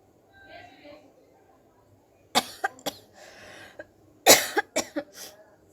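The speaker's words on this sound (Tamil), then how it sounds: "அதில் வந்து எனக்கு வெறும் இருமல் தான் வந்துக்கிட்டு இருந்துச்சு, ஸ்னீசிங் வர மாட்டேது." Several harsh coughs and throat-clearing bursts ring out close by while someone tries to induce a sneeze with cotton buds, over a faint low hum.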